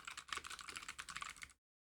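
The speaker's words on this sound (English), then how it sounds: "I think my typing is really loud right now." Fast, close clicking of typing on a computer keyboard, a quick burst of keystrokes for about a second and a half that then stops dead into silence.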